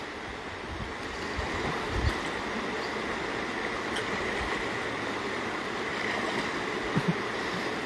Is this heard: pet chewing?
no